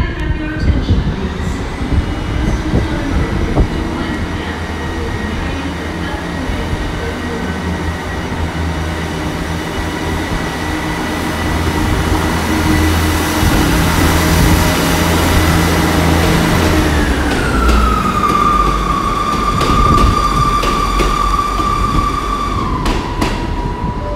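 A train pulls out of Exeter St David's station in a long, loud, steady rumble with rail clatter, its engine tone shifting and dropping partway through, close by and alone.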